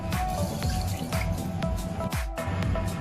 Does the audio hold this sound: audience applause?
no